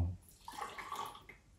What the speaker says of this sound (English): So obviously we're wetting the filter.